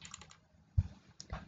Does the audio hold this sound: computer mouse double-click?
yes